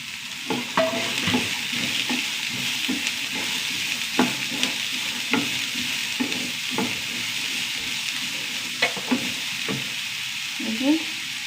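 Ginger, green chilli, onion, carrots and beans sautéing in a pan, a steady sizzle of frying with repeated spoon stirring and scraping strokes, close and moderately loud.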